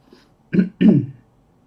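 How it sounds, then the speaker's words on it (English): A man clears his throat twice in quick succession, close to the microphone: a short rough burst followed by a longer, heavier one, then quiet. "So excuse me if I need to clear my throat as we go through the video."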